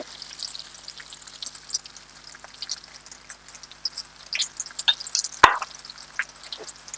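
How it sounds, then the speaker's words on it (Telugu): Water poured off a cooking pan: a soft trickle and dribble with scattered drips and plops, building to a louder splash near the end, close by and fairly quiet. "ఈలోపు ఈ వాటర్ని వంపేసండి"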